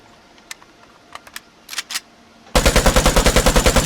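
An AKM rifle fires in the video game Vigor: a few scattered clicks and clacks first, then a loud, close burst of full-auto shots in a fast even rhythm running to the end.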